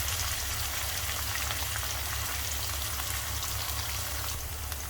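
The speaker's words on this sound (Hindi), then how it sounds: "भिंडियों को इस तरह से आगे पीछे चलाते रहें ताकि वो अच्छे से हर बार सब तरह से फ्राई हो।" Okra (bhindi) sizzling in a pan as it is stirred back and forth, a steady dense crackle and hiss of frying that runs unbroken and fairly close, with no voices over it.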